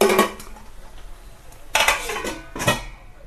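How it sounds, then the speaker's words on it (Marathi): Metal lid set onto a cooking pot in a home kitchen while an onion-tomato masala for matar paneer cooks, giving a few sharp clanks at the start and two more metallic knocks later, close and fairly loud, with no talking. "त्यानंतर झाकण लावूया"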